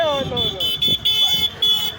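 A car horn blares in several short, repeated honks, loud and close, on an Ahmedabad street during a windstorm, with a voice talking briefly over the start.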